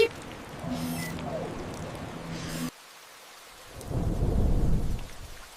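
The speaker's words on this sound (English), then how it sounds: "Here we go, into the storm." Thunderstorm with steady rain hiss at first, then a deep rolling rumble of thunder that swells loud near the end and fades, with no voices.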